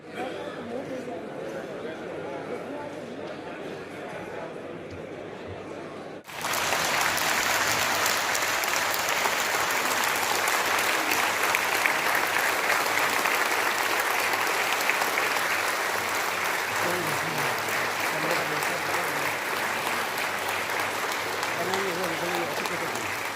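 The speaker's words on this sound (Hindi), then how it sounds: "सभी लोग खड़े हो जाएं और जोरदार तालियों से महामहिम" A large seated crowd at a presidential inauguration of a Dalit community program breaks into loud, sustained applause after someone speaks over a microphone, with clapping filling the hall for over fifteen seconds.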